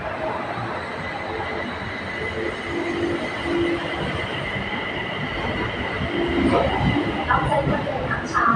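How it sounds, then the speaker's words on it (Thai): A BTS Skytrain EMU on the Silom line pulls into an elevated Bangkok station, with a steady loud rumble of wheels on rail that swells near the end and carries a thin metallic squeal. "ก็ขบวนรถมามาพอดีครับ"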